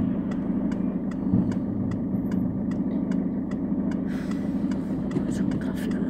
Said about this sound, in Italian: C'è un traffico della Madonna.